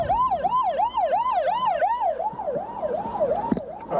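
Police car sirens wail close by in a fast, steady yelp pattern, fading slightly toward the end, during the May 1991 Laverne, Oklahoma tornado.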